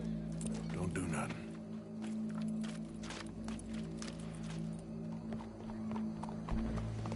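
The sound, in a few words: horse hooves clip-clopping in a video game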